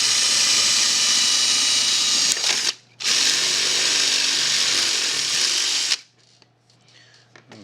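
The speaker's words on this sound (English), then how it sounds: "kind of maybe use the drill a little bit as a mill and pull it to the side" A power drill grinds loudly and steadily as it is pulled sideways like a mill through a Yashica Electro 35 camera, with a brief stop and restart midway before it cuts out near the end.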